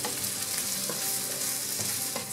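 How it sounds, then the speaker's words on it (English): Onions, garlic and mushrooms fry in a pan for a vegan mushroom tart, a loud, steady close-up sizzle with a few soft stirring bumps and no voices. "I'm just going to add in the garlic and the mushrooms and let it cook until the mushrooms are all soft."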